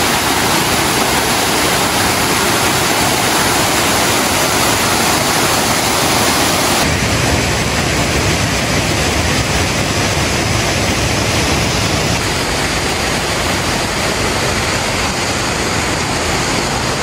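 A large creek rushes along a rocky hiking trail on the Bartram Trail, a loud, continuous broadband roar of flowing water close by with no pauses, steady throughout.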